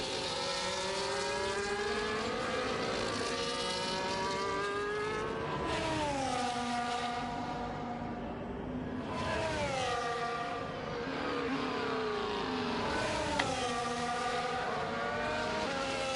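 Simulated race car engines roar continuously in a video game league race in Australia, several cars with DRS open, pitch sweeping up and down through gear changes as cars accelerate and pass, loud and steady throughout.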